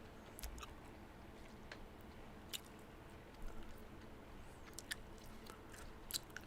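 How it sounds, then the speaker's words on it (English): Close, quiet chewing on a piece of raspberry gum, with soft wet squishes and small clicks repeating irregularly against a low hiss. "Chewing a piece of gum."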